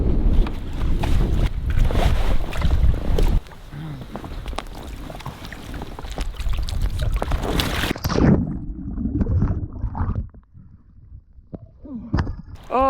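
Kayak on water in a windy anchorage with gusts near 40 knots: loud, continuous wind buffeting and water splashing dominate, then drop away to a quieter stretch with scattered splashes and knocks near the end.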